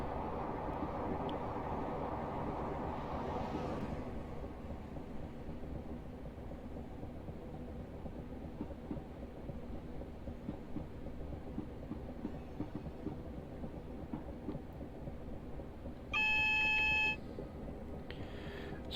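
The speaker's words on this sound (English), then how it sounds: "We have another class 90 coming past." A Class 90 locomotive rolls past a station platform in Train Simulator Classic, a steady rumbling train noise holding for several seconds, with a short electronic beep tone near the end.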